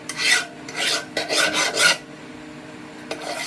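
A hand file rasps across a hardened steel sword blade clamped in a vise, four distinct back-and-forth strokes in the first two seconds, then a short final scrape; close and clear, no talk.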